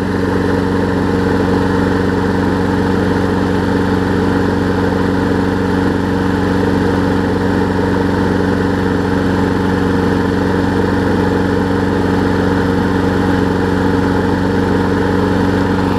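A Craftsman big wheel lawn mower engine runs steadily at a constant idle, its loud, even drone and low rumble close by and unbroken throughout.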